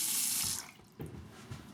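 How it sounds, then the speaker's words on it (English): Tap water gushes loudly into a basin for about half a second, then the flow stops, leaving faint splashing and handling sounds. "I think I'm going to need some water in this basin."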